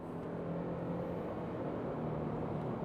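A Subaru Crosstrek pulls hard at full throttle from about 30 km/h, its engine drone and road noise loud and steady throughout with no voices over it.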